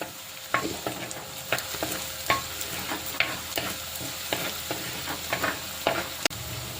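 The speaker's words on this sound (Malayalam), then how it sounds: "നമ്മുടെ ഉള്ളി ഇഞ്ചി എല്ലാം കൂടെ നന്നായിട്ട് ഒന്ന് മൂത്ത് വന്നിട്ടുണ്ട് കറിവേപ്പില എല്ലാം കൂടെ നന്നായിട്ട് മൂത്ത് വന്നിട്ടുണ്ട്" Chopped onion, ginger and curry leaves frying in oil in a pan, a steady close sizzle broken by regular scraping strokes of a spatula, with no one talking.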